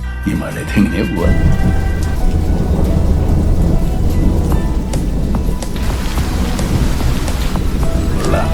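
Heavy rain pours steadily, a dense close roar of drops hitting surfaces with a low rumbling undertone like thunder, continuous and loud throughout.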